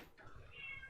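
A pet cat meows at close range, a single drawn-out call rising and wavering in pitch, soft and unaccompanied by talk.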